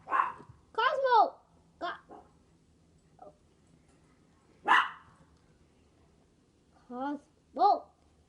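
A pet dog named Cosmo barks indoors in short, loud bursts of yips and barks, spaced irregularly with quiet gaps between them.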